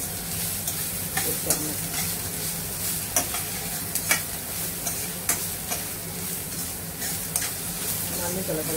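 Coriander leaves fry and sizzle in a pan for mutton leg paaya, a steady close hiss broken by regular sharp ticks as a spoon stirs against the pan.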